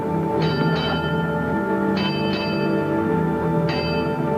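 A ship's bell strikes five bells in paired rings, two quick pairs and a final single stroke, bright metallic tones ringing out over a steady low rumble.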